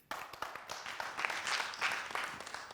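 Studio audience applause on a Burkinabè TV variety show, a steady patter of many hands clapping at moderate volume that swells slightly and holds throughout, with no talk over it.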